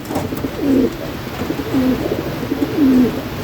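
Pigeons in a loft, including Sirazi, Lokka and Mukhi breeds, give low rolling coos in three distinct bursts, near and moderately loud over a steady background hiss.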